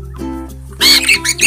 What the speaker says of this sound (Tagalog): Napakaingay po ng ibon na to.